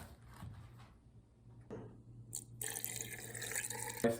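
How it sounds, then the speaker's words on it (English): Water runs from a tap into a container for a Huel smoothie, starting with faint drips and trickles and then swelling into a louder steady splashing pour near the end. "All right, let's add some water."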